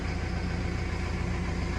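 A tractor engine, just started, idles steadily with a low, even rumble that stays constant and fairly close throughout, with no talk over it.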